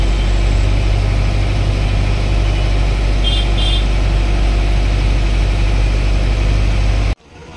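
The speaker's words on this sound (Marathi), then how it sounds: "काही थोडीफार ट्रॅफिक आहे." Vehicle engines idling in road traffic, a loud, steady low rumble that holds unchanged for about seven seconds and then cuts off abruptly, with a brief high double beep partway through.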